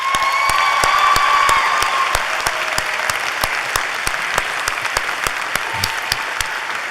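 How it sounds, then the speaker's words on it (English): An audience at a university winter graduation ceremony bursts into steady, sustained applause, many hands clapping together at close range and fairly loud throughout. "So I think we should give her a round of applause."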